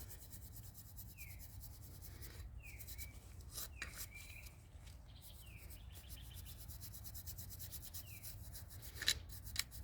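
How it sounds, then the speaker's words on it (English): A paintbrush carrying very little paint scrubs against organic clay, giving a faint, steady dry rubbing with scattered bird chirps in the background. "I have very little paint on my brush. I'm scrubbing this."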